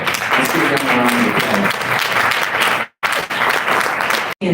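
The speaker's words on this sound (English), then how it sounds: "I want to give the graduates a round of applause for staying the course and staying committed to this program." A crowd at a graduation ceremony for a Detroit-area mentorship program applauds the graduates with loud, dense clapping and voices mixed in. The applause breaks off briefly twice before starting up again.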